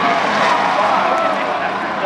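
Race cars roar around the oval at Stafford Speedway in a dense, loud, continuous engine wash, blended with commentary-like voice energy and crowd noise throughout.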